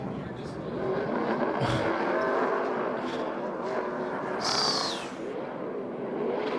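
NASCAR Xfinity Series race cars roar and scrape through a wreck on track, with loud engine drone, a sharp metallic crunch and a high screech of tires mixed in.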